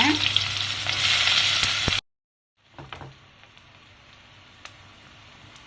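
Sliced onions hit hot oil for a mushroom biryani, giving a loud, steady sizzle for about two seconds. After a sudden cut, a quieter, softer frying hiss continues with a few faint clicks.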